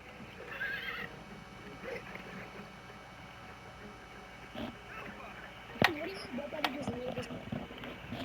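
Horse sounds in a video game, with hoof clip-clops, soft snorts and a whinny over faint background game noise, a sharp impact near the middle, and a voice speaking at times.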